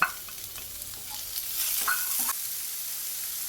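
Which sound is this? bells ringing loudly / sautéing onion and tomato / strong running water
sautéing onion and tomato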